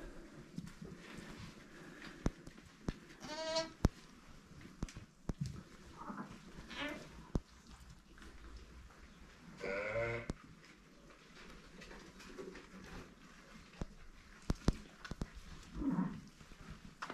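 Sheep and young lambs bleating inside a pen on a Turkish farm, several scattered calls near and far among rustling and faint talking.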